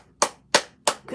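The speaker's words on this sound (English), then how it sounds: "Give him a hand of applause." Clapping at a Phillies playoff game against the St. Louis Cardinals, heard as a few sharp, evenly spaced claps, close and distinct rather than a crowd roar.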